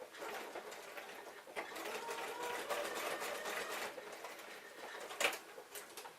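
A sewing machine back tacks over a belt loop on a pair of jeans, a fast, close mechanical whirring that runs steadily with brief pauses and a sharp knock near the end.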